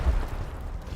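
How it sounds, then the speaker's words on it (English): A thrown grenade detonates in a military shooter game as a short, heavy low boom. The blast peaks at the very start, then a rumbling tail decays across the second. "Throwing a grenade."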